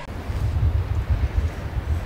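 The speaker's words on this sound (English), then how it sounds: "it's getting windy" Gusty wind buffets the microphone outdoors during a Texas turkey hunt, a steady low rumble rising and falling in loudness throughout, with no talking.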